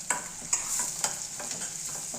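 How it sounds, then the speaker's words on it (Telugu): Onions and green chillies sautéing in hot tempering oil, with a soft steady sizzle and a few clinks of a spoon stirring at regular intervals, close by with no talk. "తాలింపు కొంచెం ఫ్రై అయ్యాక ఇందాక మనం కట్ చేసుకున్న ఆనియన్స్, పచ్చిమిర్చి ఇవన్నీ వేసుకొని లైట్గా మగ్గనివ్వాలి"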